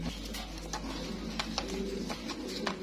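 House pigeons at a bird sale, soft low cooing repeated over a steady hum of background noise, with faint chirps and clicks mixed in.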